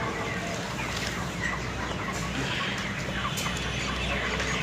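Many 31-day-old poultry farm chickens cluck and chirp together at close range while feeding, a dense busy flock sound with overlapping calls throughout.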